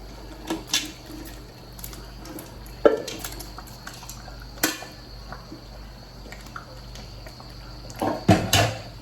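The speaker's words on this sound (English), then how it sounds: "stir and cover together" Banga stew being stirred in a pot with already cooked meat, with scattered clinks and scrapes of a spoon on metal. A soft steady hum runs underneath and no one speaks.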